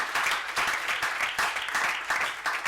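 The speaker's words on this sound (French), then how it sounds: "Just clap for yourself." Audience clapping at a church testimony gathering, a dense, continuous burst of applause from many hands, close and steady throughout.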